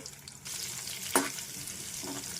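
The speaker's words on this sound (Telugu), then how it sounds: "పచ్చిమిర్చి వేస్తున్నాను. పచ్చిమిర్చి కొంచెం వేగాలండి." Green chillies frying in hot oil, giving a continuous loud sizzle with a sharp crackle partway through; no talking.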